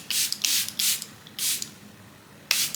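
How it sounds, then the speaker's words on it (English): Charlotte Tilbury setting spray misted over a face in four short bursts: three in quick succession, then a fourth after a pause, each a close, crisp hiss. "I'm just gonna spray all over."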